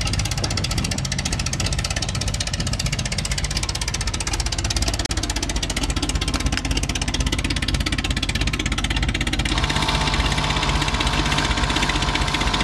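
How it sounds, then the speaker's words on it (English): An air compressor on a Jeep CJ5 runs steadily with a loud, continuous mechanical rattle and drone, close up and alone, its tone shifting slightly near the end. "That's a air compressor."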